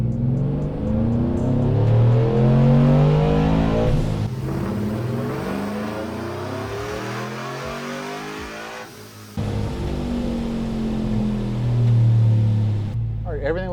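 A Procharged, cammed 6.2L GMC Denali truck engine revs hard on a dyno pull, climbing loudly through the rpm range, dropping back, then winding up again, close and dominant.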